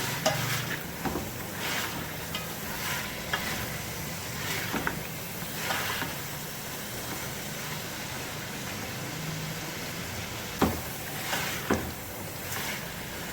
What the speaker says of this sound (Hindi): अच्छी तरह मिक्स करेंगे इसको, अच्छी तरह भून लेंगे मिक्स करके।